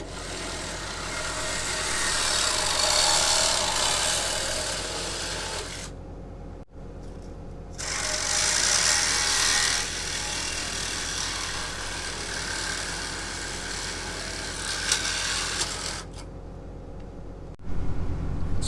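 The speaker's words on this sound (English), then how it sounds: "So with a few precision cuts at the Sawzall," A Sawzall reciprocating saw cuts a catalytic converter off a Ford Focus, a loud, harsh buzzing rasp in long runs broken by short pauses, with a final burst at the end.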